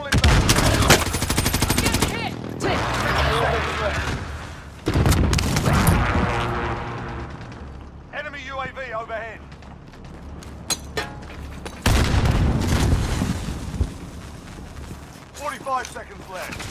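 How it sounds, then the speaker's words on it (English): Loud gunfire and booming explosions from a precision airstrike in Call of Duty Warzone, dense bursts and heavy blasts that surge and fade across the stretch, with quieter lulls between barrages. "Friendly precision airstrike."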